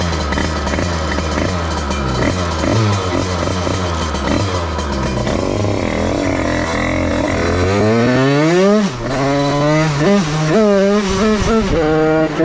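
A DRD 88cc Stage6 Big Racing moped engine revving hard at close range, with a loud buzzing two-stroke whine that rises and falls through repeated throttle sweeps, climbing steeply near the end.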